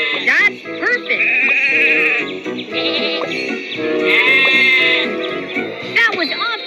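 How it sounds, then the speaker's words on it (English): Sheep bleat on railway tracks in a train video game, several wavering, nasal cries overlapping and sliding in pitch, loud and close over a bed of game music. "Sheep have wandered onto the tracks."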